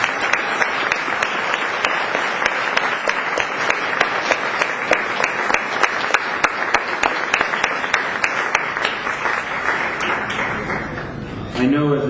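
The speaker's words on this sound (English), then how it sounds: "How about another round of applause for all of the essays?" Sustained applause from an audience at a peace essay contest, a dense wash of clapping with distinct sharp claps standing out, continuing steadily for about eleven seconds before tapering off at the end.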